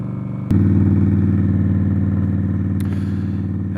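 An Indian Scout Bobber motorcycle rumbles with a loud, steady engine drone while riding on a cold, windy day; the sound jumps up sharply after a brief click and then holds an even throb.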